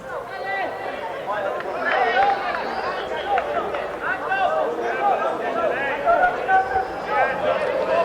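A home football crowd at a 1997 FAI Youth Cup Final shouts and jeers at a linesman on the near side, a loud continuous babble of many voices with a commentator talking over it.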